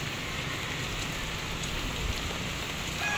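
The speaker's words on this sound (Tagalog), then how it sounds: "Hindi po masyadong kita po at malakas na po yung ulan." Heavy rain pours steadily near a stream, a dense constant hiss of drops hitting surfaces with no pauses, loud and close throughout.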